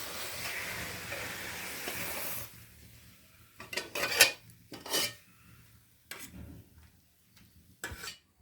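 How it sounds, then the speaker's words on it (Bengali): Fish curry of small river fish scraped from a pan into a bowl, with a raspy scraping rub followed by several short clinking scrapes of utensil against metal, close and fairly quiet. "তরকারিটা হয়ে গেছে, আমি তরকারিটা একটা পাত্রে ঢেলে নিচ্ছি।"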